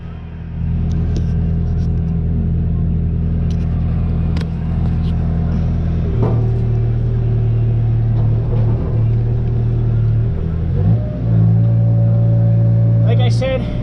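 A backhoe's diesel engine runs steadily and loudly nearby, its low rumble rising in pitch around the middle and again near the end as the machine works, with a few faint clanks over it.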